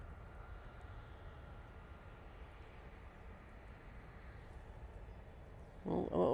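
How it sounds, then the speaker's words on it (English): Virgin Atlantic airliner landing at Manchester Airport, a steady distant roar of engines and rushing air that holds level throughout, with a brief louder burst near the end. "absolute butter there from the Virgin Atlantic. Beautiful landing."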